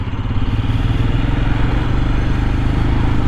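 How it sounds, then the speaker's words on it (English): A 2023 Royal Enfield Scram 411 motorcycle accelerates, its single-cylinder engine holding a loud, steady rumble with mechanical clatter riding over it. "We'll get out some acceleration here, see how she does."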